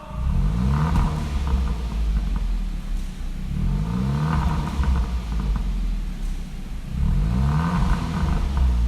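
A Kia K3 GT with an aftermarket exhaust and the variable valve closed revs repeatedly, three rising engine swells over a steady close, loud rumble, with no talking.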